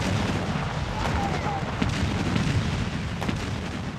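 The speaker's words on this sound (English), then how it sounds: "Confederate artillery opened fire on Fort Sumter in Charleston Harbor, South Carolina" Confederate artillery shelling Fort Sumter in Charleston Harbor, South Carolina, in April 1861: a dense, continuous rumbling barrage with a few sharper, heavier bursts that rise over the roar.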